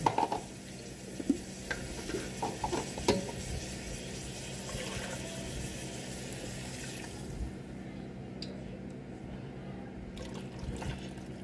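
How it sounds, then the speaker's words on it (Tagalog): Water pours from a container into a pan of simmering pork steak, a steady close trickle and splash that thins out partway through, with light kitchen clatter. "Lagyan po natin ng tubig para po maluto na siya."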